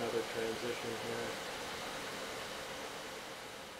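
Steady broadband hiss of rain from the Weather Maker effect in the uMMORPG Unity game. A faint tonal voice-like murmur sits over it at the start, then the rain continues evenly.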